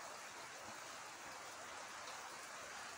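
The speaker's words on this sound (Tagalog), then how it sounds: "umuulan pa rin ngayon dito sa amin" Steady early-morning rain falls in a continuous, even hiss, soft and fairly distant, with no talking.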